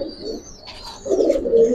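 Giribaz and colored pigeons cooing close by, low throaty rolling coos swelling in the second half, with faint chirps above.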